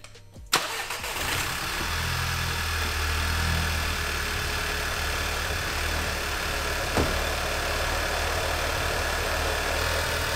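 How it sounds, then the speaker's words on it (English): A 2013 VW MK6 GTI engine cranks and catches on a cold start, then idles with a rough, uneven cold-start misfire, a steady low rumble carrying on without speech. "as you guys can tell, this is the cold start misfire I'm talking about"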